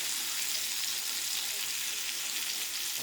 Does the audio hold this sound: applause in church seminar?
no